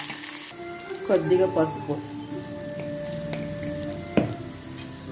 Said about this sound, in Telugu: కరివేపాకు. ఇది బాగా ఫ్రై చేసుకోవాలి.